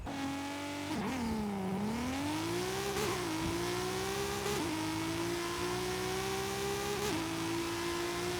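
A drag car engine in Forza Horizon 5 revs and accelerates hard, pitch climbing through several quick gear shifts with brief dips between them, loud and continuous with no talk.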